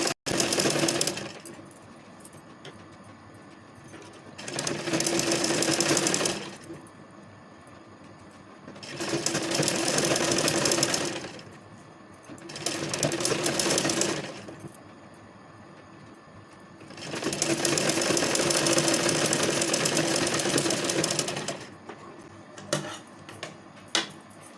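A sewing machine stitches a lined kurti in several bursts of steady, rapid mechanical running, each a few seconds long, separated by quieter pauses with faint handling of fabric, close up and without speech.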